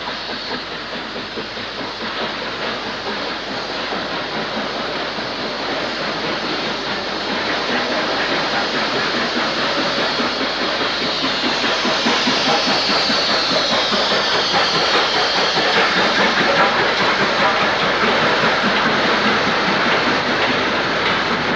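Steam locomotive 48546 hauling a train south at Skew Bridge near Preston, heard as a steady, loud, continuous roar of rolling stock and exhaust that swells slightly as it passes.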